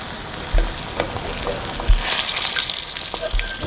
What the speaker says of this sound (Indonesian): Pastikan kita menggoreng menggunakan api yang kecil ya.